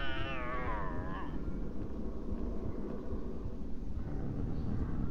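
A cat in the PS1 game Harry Potter and the Philosopher's Stone gives one wavering, drawn-out meow at the start, then game ambience hums on underneath.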